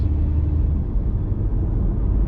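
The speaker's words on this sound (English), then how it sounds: "Mr. Truck here is going to go past us." A heavy truck overtakes a car on the road, a steady low engine and tire rumble that stays close and loud for the whole moment.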